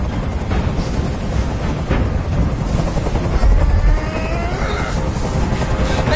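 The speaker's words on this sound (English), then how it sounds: "I can't stand that noise anymore. Tell that helicopter to get out of here." A helicopter in the video game Detroit: Become Human drones loudly and constantly. The rotor noise is a thick, unbroken roar that dominates throughout, with a faint sound of voices underneath.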